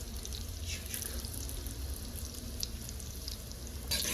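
Whole spices fry in hot oil in a pan for biryani, a soft steady crackling sizzle with faint bubbling, close and fairly quiet throughout.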